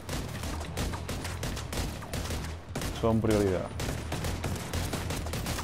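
Rapid gunfire rattles through a firefight in the video game The Division 2, a dense stream of shots continuing under players' voices and a brief tonal game sound.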